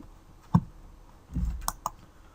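Keystrokes on a computer keyboard: a single sharp click, then a short burst of a few quicker taps and clicks a second later, close up and fairly quiet, with no talking.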